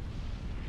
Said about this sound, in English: And 3 artilleries that is gonna kill the battleships.